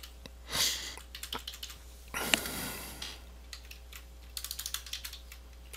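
Computer keyboard typing in short clustered bursts of key clicks with pauses between, moderately close and fairly quiet, with a couple of louder breathy sniffs or rustles between bursts and no talking.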